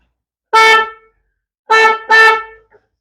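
Three loud, close blasts from a snail horn fitted to a tractor: one short honk, a pause, then two quick honks in a row, with no other sound.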